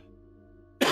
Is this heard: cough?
yes